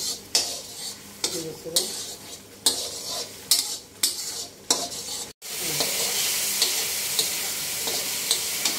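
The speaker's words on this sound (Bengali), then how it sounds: "মশলাটা না হওয়া অবধি আমি একটু করে কষাবো।" Spice masala with turmeric powder fries in a pan for a hilsa and cauliflower curry, a steady sizzle broken by repeated scraping and clinking strokes of a spoon, then a louder continuous frying hiss.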